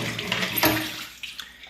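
Water drains and splashes from the filter drawer at the bottom of an automatic washing machine, a short close gurgling rush with a few small drips at the end.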